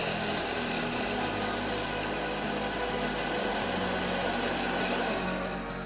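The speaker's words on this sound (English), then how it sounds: "We are grinding the roasted urad dal." Roasted urad dal being ground in a kitchen grinder, a loud, continuous whirring roar held steady for several seconds without talk before tapering slightly at the end.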